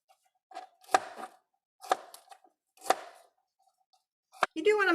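A knife chops vegetable florets into small pieces on a cutting board in a kitchen, making three distinct crisp thunks spaced about a second apart and then a quicker cut, close and clear, followed by a voice at the end.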